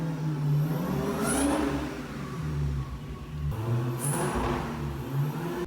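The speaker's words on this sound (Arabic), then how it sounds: "وبعد ما خلص تغيير الزيت بدا في تشغيل العربيه." A 2016 Dodge Hellcat SRT engine starts up after an oil change and runs, its deep idle rising and falling through a couple of blips, loud and close without talk.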